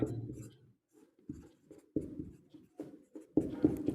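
Pen writing on paper during a class 10 geometry lesson, with short scratchy strokes in uneven bursts heard up close and quiet pauses between them, and no talking.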